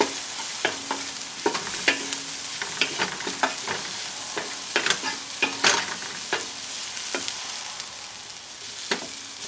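Utensil stirring Vietnamese curry sizzling in a pan, with a steady crackling fry under repeated scraping strokes close by, no talking.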